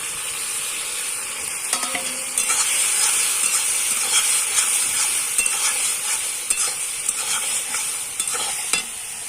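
Spices stirred and fried in a pan for a vegetarian dish, a loud, dense, continuous sizzling hiss with light scraping strokes throughout.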